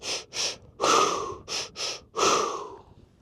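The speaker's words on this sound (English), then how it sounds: "Intentional breathing. Pranayama breath." Deliberate pranayama breathing, close and clear, with no talk: six strong breaths, two short sharp ones, a longer drawn one, two more short ones and a final long exhale trailing off.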